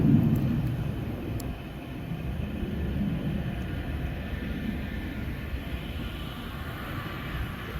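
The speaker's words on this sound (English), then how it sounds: "airplanes taking off over there at the airport" Airplanes taking off at a distant airport, heard from outside an aviation museum, as a continuous low broad rumble with steady roaring jet noise throughout and no talking.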